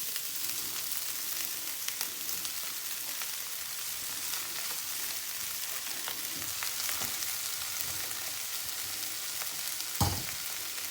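Rice stir-fried with softened capsicum in a heavy pan, a steady close sizzle with intermittent stirring scrapes and a louder clunk near the end, no talk.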